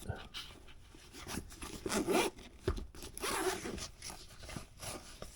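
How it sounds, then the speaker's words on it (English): Zipper drawn closed on a soft-lined accessory case holding a Series 5 hub for a MacBook Pro, a few rasping zip strokes close by with brief pauses and handling rustle between them. "zip it up, and then open the main compartment"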